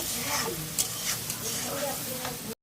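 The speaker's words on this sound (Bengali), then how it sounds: "পেঁয়াজটা তেলে ভেজে নিচ্ছে" Onions frying in hot oil in a pan for a fish curry, a loud, close, continuous sizzle with stirring scrapes throughout, cutting off abruptly at the end.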